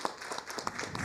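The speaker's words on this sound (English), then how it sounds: "let's give our young lady, Lynette Harris, and her family a round of applause" Scattered applause for a young lady and her family at a city council meeting, a short burst of claps from a modest indoor audience at moderate level.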